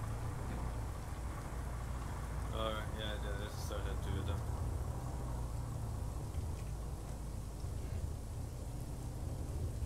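Rain falling in the military video game ArmA 3 makes a steady, soft hiss beneath people talking over it, and a brief electronic chirping sound cuts in partway through.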